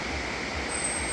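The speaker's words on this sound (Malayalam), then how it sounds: "ആ വെള്ളച്ചാട്ടാണ് കേട്ടോ അവിടെ കാണുന്നത്" Steady broadband rush of a waterfall on the road from Chinnar to Marayur, a constant, even roar with no clear voices over it.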